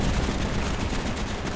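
Dense, continuous video game gunfire from Call of Duty: Black Ops with booming blasts, a heavy rattling barrage that fills the whole moment without pause.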